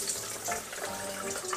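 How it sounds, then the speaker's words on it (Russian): Hot oil infused with vegetables for an Asian fried rice being poured off a pan, a steady liquid trickle with a soft sizzle, close and alone without speech. "Сливаем масло."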